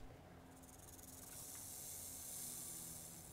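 A snake hissing in the 7 Days To Die video game, a faint, steady airy hiss that swells slightly and holds for a few seconds, with no talk.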